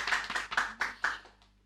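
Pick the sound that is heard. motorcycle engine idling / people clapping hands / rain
people clapping hands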